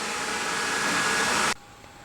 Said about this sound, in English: let's see how long it takes for this to vacuum this area in comparison to my other vacuums